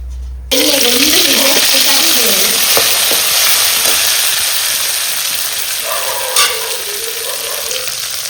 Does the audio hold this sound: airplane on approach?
no